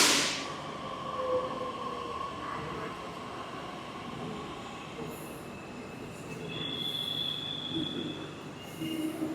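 A Pune Metro train running, steady rumble of wheels on rail with thin high squeals rising near the end, heard from inside the car with no talk.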